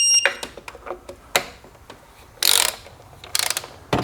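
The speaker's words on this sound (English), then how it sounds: "Now we need to torque the 6 fasteners holding down the intake." A torque wrench tightening the intake fasteners on a Nissan Pathfinder 3.5L V6, heard as close, sharp ratcheting clicks in short irregular bursts with brief pauses between strokes.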